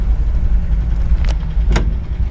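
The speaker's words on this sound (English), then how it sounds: "We're gonna take her for a quick spin and tap the gas pedal once." A 1966 Ford F100 pickup truck with a manual transmission pulls away, a steady loud low engine rumble close by, with two brief sharp clicks or knocks partway through.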